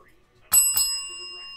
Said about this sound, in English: Jeffrey, where's my bell?